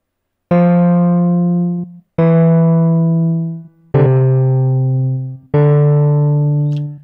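Waves CR8 sampler playing four separate sustained sampled notes, each held for about a second and a half, with the volume of individual samples adjusted and panned; clean, loud and without voices.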